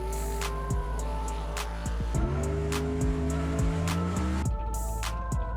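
A Mustang-swapped Shelby Cobra drives hard, its engine loud and close, revving up through gears with sharp shifts and rising pitch over a steady road roar.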